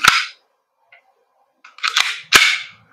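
Several sharp snapping shots from a WE M1911 MEU airsoft gas blowback pistol: one crack, a pause, then a quick pair of reports, loud and close with short clattering tails and no voices.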